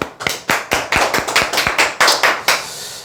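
A steady run of about a dozen sharp, close hand claps in a fairly even rhythm, loud and alone.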